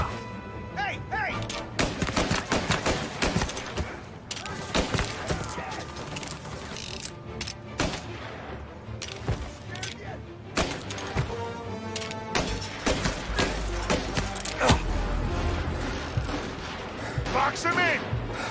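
Rapid, loud gunfire from the video game Mafia Definitive Edition, sharp cracks and volleys repeating throughout amid game music and crashing impacts, with voices calling out between shots.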